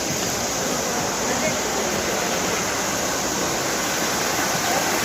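Steady broadband rush of mountain water pouring down Bhagsunag waterfall, loud and continuous from start to finish with no pauses.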